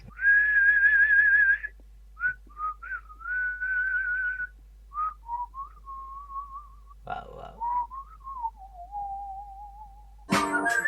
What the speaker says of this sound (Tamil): கபாலியில நான் விசில் அடிச்சிருக்கிறேன்.